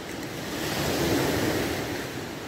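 Ocean surf on Maspalomas beach in Gran Canaria rolls in as a continuous broad wash that swells and recedes over a couple of seconds, with no voices.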